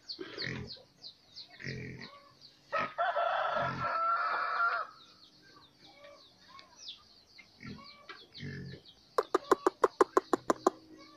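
A young Vietnamese decoy rooster, about six or seven months old, crows in a strong bout followed by shorter crows, with a rapid run of sharp clicking taps near the end and no talk.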